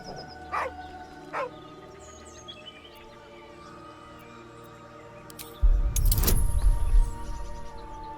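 A dog in the Baldur's Gate 3 video game gives two short barks early on, over a low, steady game ambience. Later, a louder, rumbling burst of other game noise takes over.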